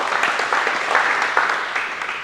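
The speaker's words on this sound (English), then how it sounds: "Give her a round of applause again." Applause from the audience at a basketball coaching clinic on man-to-man defence, a steady, dense wash of clapping that holds at an even level throughout without any talk.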